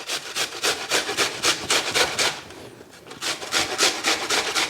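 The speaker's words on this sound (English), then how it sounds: "So you wanna go ahead and just grate the onion on the finest setting" An onion is grated on the finest side of a grater, giving loud, steady rhythmic rasping strokes close by, with a brief pause midway before the strokes resume; no one speaks.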